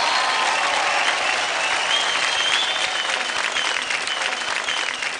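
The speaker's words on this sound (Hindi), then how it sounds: "जोरदार तालियां हैं सुपर मॉम के लिए" An audience applauds loudly after a dance-off performance on a TV dance show, a dense steady wash of clapping with faint voices mixed in.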